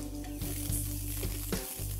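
Chopped onions, red pepper and other vegetables hit hot oil in a pan with a steady, close sizzle, punctuated by a few soft stirring knocks and scrapes.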